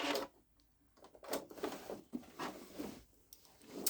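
A Babylock Solaris Vision sewing machine stitching a quilted bag, its needle running in short uneven bursts with pauses between, close and moderately quiet, with no talk.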